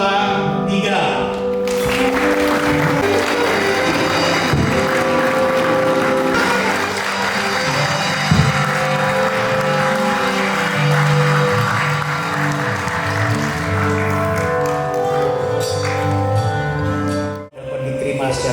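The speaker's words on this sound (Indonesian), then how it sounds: "Keluarga jemaat akan memberikan aplaus dan bertepuk tangan" A wedding congregation applauding the couple's kiss at a church blessing ceremony, loud, steady clapping sustained for many seconds with cheering voices and music-like tones blended beneath, cutting off abruptly near the end.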